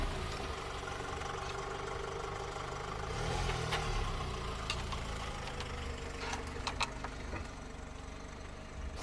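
A BMW engine idles with a cylinder misfire, a steady mid-pitched running hum with slight unevenness and a few faint clicks, heard alone at moderate level.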